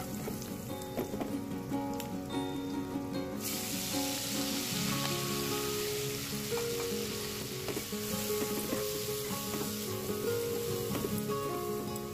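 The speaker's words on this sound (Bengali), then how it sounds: "শুকনো লঙ্কা আর এলাচ ফোড়ন দিয়ে, গোটা গরম মশলাও ফোড়ন দিয়ে দিয়েছি, আর রসুন ছেড়ে দিলাম" Dry chilli, cardamom, whole garam masala and garlic sizzle loudly in hot oil in a wok, a continuous crackling fry that swells after a few seconds, with occasional stirring scrapes and no voices.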